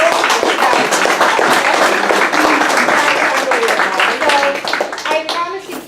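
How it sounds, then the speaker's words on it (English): Loud, dense applause fills a fitness session room as an audience claps for two trainers, continuous close hand-clapping with a few voices and a child's chatter underneath, thinning out toward the end. "I want to give Susan and Rebecca another round of applause."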